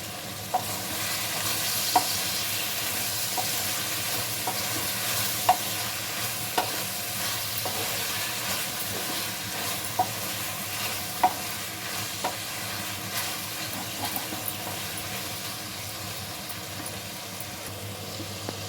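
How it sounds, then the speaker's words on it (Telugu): Fish, brinjal and tomatoes frying in hot oil give a steady, continuous sizzle, broken by occasional sharp scrapes and taps as they are stirred in the pan, close and with no talking. "చేపలు కానీ వంకాయలు టమాటాలన్నీ మంచిగా ఫ్రై అయ్యాయి మళ్ళీ ఒకసారి కలుపుకోవాలి"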